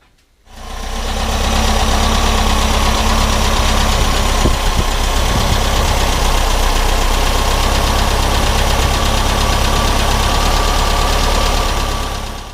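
A 1970 VW Camper Bus engine, freshly fitted with a new battery and fuel, cranks briefly and catches, then settles into a loud, steady idle with a constant rumble that carries on to the end, with no talk.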